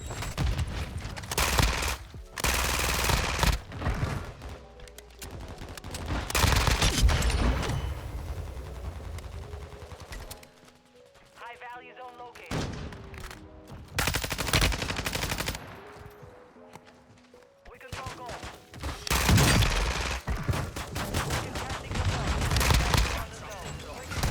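Bursts of rapid gunfire and blasts from the game Warzone 2.0 come and go in loud clusters, separated by quieter stretches with brief talk.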